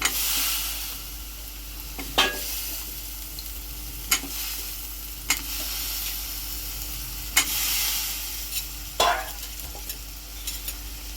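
Sliced potatoes, masala and tomato for cashew bhaji sauté in a pan, a constant frying hiss under periodic scraping strokes of a spatula, close and fairly loud, with no talking.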